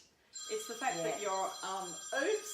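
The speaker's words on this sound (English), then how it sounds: "that's the phone. Forgot to put the phone on silent." A telephone rings, its steady electronic tone running under a close conversational voice for most of the moment.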